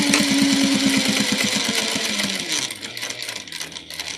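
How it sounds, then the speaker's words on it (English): A sewing machine back stitches the start and end of a clutch wallet seam, its needle pounding in a steady rapid rhythm that slows and shifts partway through, close and loud with no talking. "I'm going to back stitch the beginning and end"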